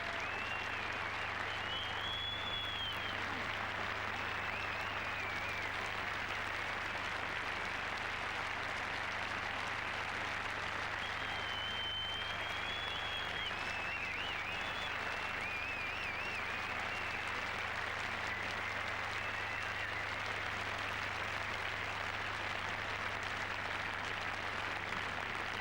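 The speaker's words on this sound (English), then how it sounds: "a richly deserved reception for both men from this large and, of course, knowledgeable Scottish crowd" Sustained applause from a large, knowledgeable Scottish golf crowd at Loch Lomond during the 1996 final-round prize presentation, a steady dense clapping that holds for the whole stretch with faint whistles rising above it.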